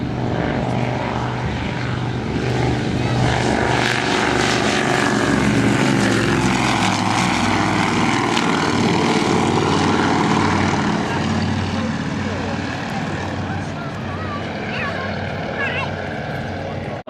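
Avro Anson classic propeller aircraft taking off at an airshow, a loud continuous piston-engine drone with propeller buzz sustained throughout, steady and close, with faint voices mixed in.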